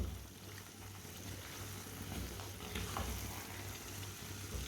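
Halwa cooking in a pan and stirred with a spoon, giving a steady, soft sizzle and bubbling hiss with faint scraping, heard close and without talk.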